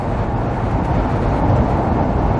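A Ford Panther platform car cruising on the highway, heard from inside as a steady low road rumble and drone that holds evenly throughout with no talking.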